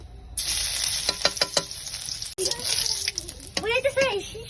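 Garlic dropped into hot Saffola oil sizzles steadily, a bright hiss with crackling bursts close by, while a voice talks intermittently over it.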